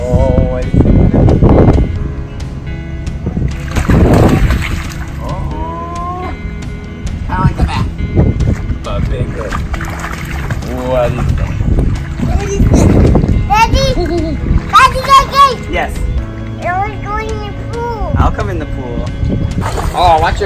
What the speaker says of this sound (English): Oh, watch your brother splash, splash,